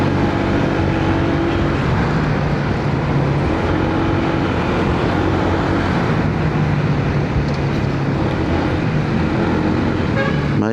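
Dense rush-hour street traffic of cars and motorcycles, a steady loud roar of engines close by with repeated horn toots sounding through it.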